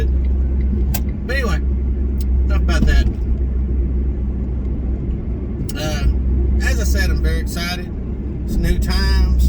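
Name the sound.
three-cylinder Smart car engine driving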